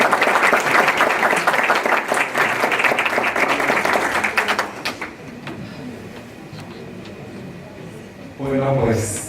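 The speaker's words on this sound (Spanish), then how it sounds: "Un aplauso, por favor." Sustained, dense applause from an audience at a bioethics and public health event fills the first half, then fades to scattered claps and room noise before a voice begins speaking.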